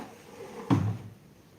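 A single dull thump as a house door is shut against the rain, one short muffled knock over a quiet background.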